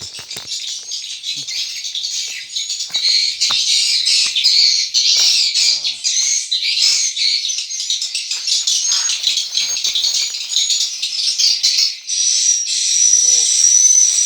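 Dense, continuous twittering and chirping of many swiftlets inside a heated swiftlet house, loud and close, with brief voices in the background.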